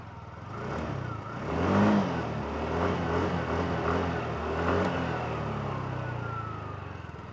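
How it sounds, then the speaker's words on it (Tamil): A TVS Jupiter 110 fuel-injected scooter engine starts, revs briefly, and settles into a steady, close idle hum. "நான் வண்டியை ஸ்டார்ட் பண்ணி பார்க்குறேன், நீங்கள் பாருங்கள்."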